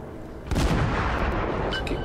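A single heavy naval gun report in a warship video game rings out as a sharp boom with a short rumbling tail, fairly quiet overall.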